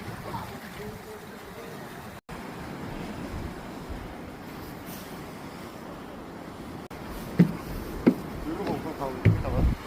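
Waves on the Gangneung seashore give a steady rushing surf with some wind buffeting the microphone, while people exclaim over it close by.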